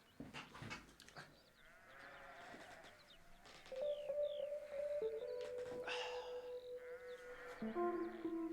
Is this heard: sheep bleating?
yes